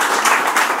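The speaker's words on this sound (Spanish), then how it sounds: "Yo les pediría a todos ustedes un aplauso para él" A brief burst of dense audience applause at a talk, many hands clapping together in a loud, steady crackle.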